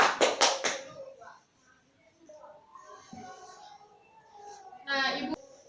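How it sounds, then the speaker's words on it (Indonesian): A classroom gives a student a short burst of applause, with a few loud claps at the start, and gives another brief round near the end. Faint talking and murmuring fill the space between the two. "Mari kita kasih aplaus kepada Fani."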